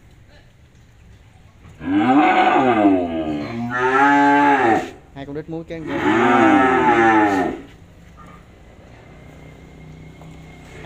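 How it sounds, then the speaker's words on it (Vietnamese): Cattle at a cattle farm in Tra Vinh, Vietnam, give three long, loud moos close by. Short pauses separate the calls, and a voice speaks briefly at the end. "quá trời con bò luôn"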